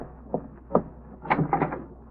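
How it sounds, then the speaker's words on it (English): Door sound effect in a 1947 radio comedy broadcast: a few soft knocks and clicks, then a short cluster of rattles and a latch as the door opens, close and moderately loud with no talking. "Rochester, see who's at the door, please."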